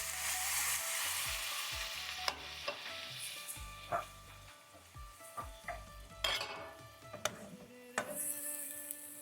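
Watermelon rind curry with turmeric and about half a cup of water added sizzles softly in a pan, while a spoon repeatedly scrapes and clinks against the metal during stirring, heard up close.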